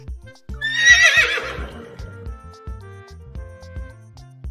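A single loud horse whinny quavers and fades over a looping rhythmic music bed, and the beat continues alone after the call ends.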